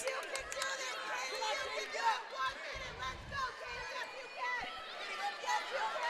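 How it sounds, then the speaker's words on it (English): Spectators murmur and chatter in a gym during a girls' high school wrestling sectional, a steady crowd babble with scattered shouts and claps under an announcer's voice. "we have the Hudson crowd behind us, the Cadott crowd across from us. Excellent energy in here right now"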